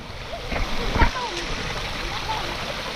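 A mountain stream flows with a steady rushing wash and small splashes, heard up close on a hike up a peak, with people talking over it.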